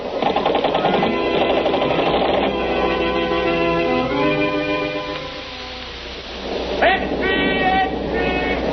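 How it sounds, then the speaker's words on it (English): Radio drama sound effect of machine gun fire from a submarine, a rapid mechanical rattle running steadily through the first half under dramatic voices, with more shouting and commotion near the end; the narrow, band-limited recording sounds like old broadcast audio. "He's got a machine gun."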